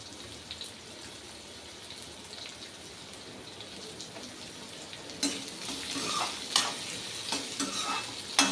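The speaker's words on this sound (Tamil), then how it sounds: "இப்போ நம்ம வெங்காயம் ஆட் பண்ணுவோம்." Onions go into a pan for a Tamil pepper curry (milagu kulambu) and are stirred as they fry. A quiet sizzle turns louder and busier partway through, with scraping stirs and crackling from close by.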